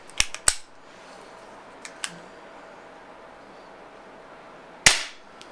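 A Beeman P1 .22 caliber air pistol fires several sharp cracks at close range, two quick shots together at the start and another alone near the end, with small clicks between them over a quiet room.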